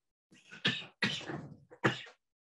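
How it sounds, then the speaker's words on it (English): A coughing fit during a keynote talk: three or four harsh, close coughs come in quick succession, separated by short gaps, with no talking over them. "I pick the perfect time to have a coughing fit."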